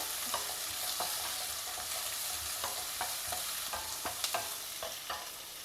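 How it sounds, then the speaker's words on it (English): Sliced onions with slit green chilli fry in a pan, a soft, fairly quiet sizzle under a string of light stirring clicks and scrapes, with nobody speaking. "Add in the sliced onions. And fry the onions very well."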